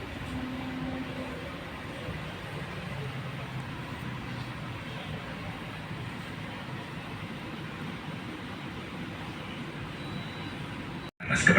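Low, steady rumble of the Tegal Bahari passenger train arriving at Cikarang station, Indonesia, fairly quiet and constant, ending with a brief dropout and a louder burst at the very end.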